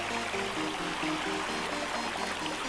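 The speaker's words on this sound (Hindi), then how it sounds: "ये भाई पानी ऊपर से आ रहा है मेरे" Steady rushing and trickling water pours in from above in a video game, a continuous close wash of sound with no pauses.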